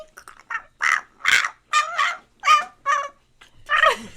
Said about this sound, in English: That chicken sounds really sick.